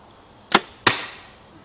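Two sharp whooshing cracks about a third of a second apart as an arrow leaves a lever bow and hits the top of the target, the second striking harder with a short decaying ring, no voices.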